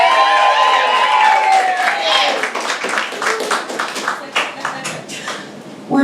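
Crowd at a NY cosplay cabaret breaks into loud applause and cheering, dense clapping that swells and then thins out into scattered claps over about six seconds.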